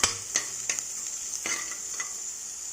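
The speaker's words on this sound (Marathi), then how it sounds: "मच्छी मसाला टाकून आपण तो आता परतून घेऊया" Onion stir-frying with a spoonful of fish masala in a pan, a soft steady sizzle with several short scraping stirs of the spoon, close and fairly quiet.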